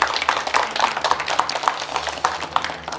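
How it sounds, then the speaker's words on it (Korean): Scattered applause of thanks at the opening ceremony of a village hall and seniors' rest center in Ohak-dong, Yeoju, a modest group clapping steadily with uneven claps, moderately loud and fairly close, no talk over it. "또 이렇게 땅을 사용하게 해주신 분께 다시 한번 감사의 박수 좀 부탁드리겠습니다."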